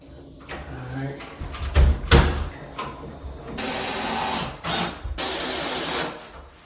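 A power drill drives the last two screws into place during floor work on a sloping, uneven floor in an old house, giving two sustained whirring bursts with a short gap between them, preceded by knocks and handling clatter.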